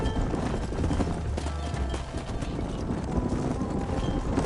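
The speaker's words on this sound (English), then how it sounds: "Hit your horse and wait for me by the stable. Giddy up." Steady clip-clop of horse hooves trotting in a video game, close and continuous, with a faint breathy background.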